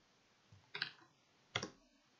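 Keys pressed on a Heidenhain 530 CNC control keypad to enter a password: two sharp, distinct plastic clicks about a second apart, close and quiet in an otherwise still room.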